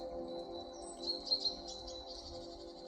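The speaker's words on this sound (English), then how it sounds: "Birds all around us" Birds chirp outdoors in the morning, a few short high chirps over a faint steady hum, quiet and somewhat distant, with no talking.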